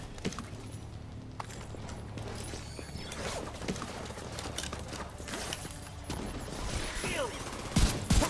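Gunfire aimed at a turret in a Fallout 3 style wasteland shooter, a dense clatter of shots and mechanical noise running through the whole stretch, with a sharper burst near the end.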